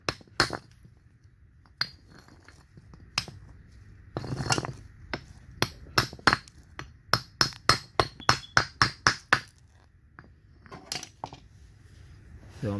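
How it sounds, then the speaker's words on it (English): A hammer strikes a metal battery terminal on a Honda Civic with an H22 engine. Sharp metallic taps come scattered at first, then settle into a fast, steady run of close, ringing blows with no talking. "hammer this without breaking it."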